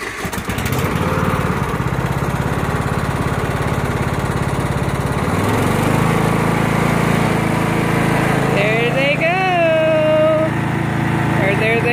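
A riding lawn mower engine runs loud and close throughout, a steady droning rumble that shifts in pitch partway through as it changes speed, with a voice speaking briefly over it near the end.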